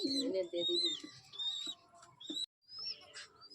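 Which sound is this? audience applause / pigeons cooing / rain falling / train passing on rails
pigeons cooing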